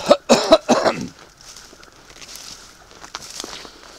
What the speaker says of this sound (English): Excuse my snuffling and coughing